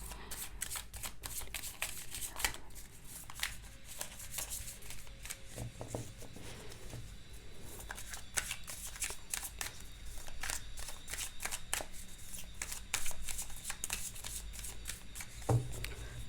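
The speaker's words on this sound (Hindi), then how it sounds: "चलिए, कार्ड शफल हो चुका है।" Tarot cards are shuffled close up in a quiet room, with repeated quick riffles and soft slaps spread through the whole stretch.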